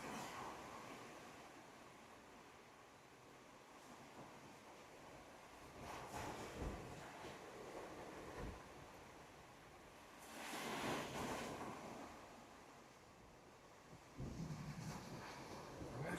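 Strong wind of about 26 knots at sea roars across a sailboat in a continuous broad rush, with gusty surges and buffeting against the microphone, fairly loud and without talking.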